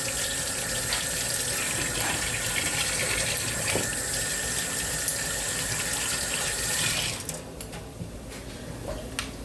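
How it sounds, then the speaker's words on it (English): Running water from a kitchen tap as hands are washed, a steady rushing splash that holds for about seven seconds before the flow stops, leaving faint drips and handling noise. "Wash your hands up real quick."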